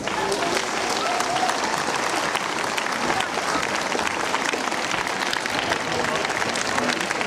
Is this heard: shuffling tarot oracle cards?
no